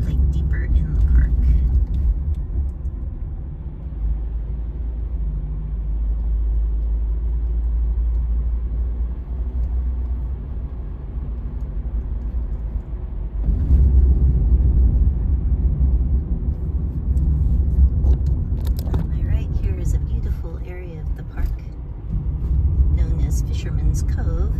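Car driving through Eagle Creek Park, a steady low engine and road rumble running throughout, with a person talking over it.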